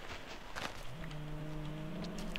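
A Minecraft cow lets out a single drawn-out moo, a low steady tone that starts about a second in and holds to the end, clear and fairly close over faint game ambience.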